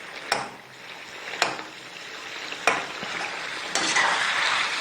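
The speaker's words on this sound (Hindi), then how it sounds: "और टमाटर का छिलका जो है वो मैंने उतार लिया है। इसको भूनते हैं अच्छी तरह।" Tomatoes fry in a pan for chicken karahi, giving a steady sizzle broken by about four sharp scrapes of stirring, close and fairly loud with no talking.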